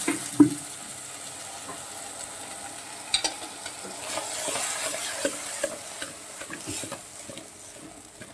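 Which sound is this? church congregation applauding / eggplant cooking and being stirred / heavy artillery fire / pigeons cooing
eggplant cooking and being stirred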